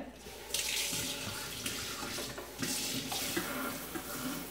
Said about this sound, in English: now you can rinse her